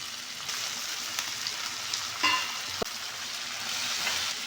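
Tomato, coriander leaves and mint fry in a hot pan with a continuous close sizzle, broken by a few spoon scrapes and a single sharp knock against the pan.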